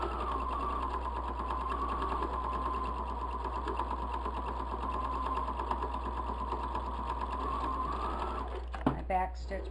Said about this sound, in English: I back stitch before I stop. And I pinned this too so that it will hold this in place more when we're sewing it.